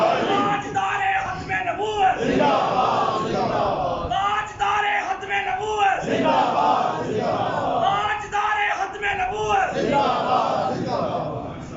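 A large crowd at a religious gathering chants slogans in loud, rhythmic waves, answering a leader's calls and repeating in regular surges that fill the space.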